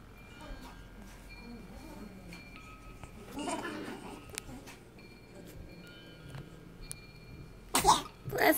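A sharp, brief sneeze bursts out near the end, followed by a second burst, over a quiet room with soft murmuring voices earlier.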